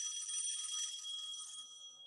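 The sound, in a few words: telephone ringing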